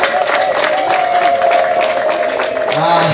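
At a Kigali wedding, a crowd keeps up steady clapping beneath long, shrill ululating trills, loud and near, with voices mixed in toward the end.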